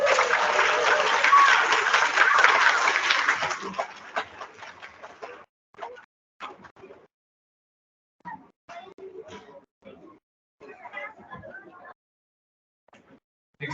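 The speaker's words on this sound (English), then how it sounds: "let's give those mathematicians a round of applause" Audience applause at a first-grade school awards assembly, a loud burst of clapping for the first four seconds that tapers off quickly, followed by scattered voices and small noises from the room.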